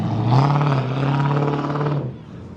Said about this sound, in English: There's another V8. Awesome V8.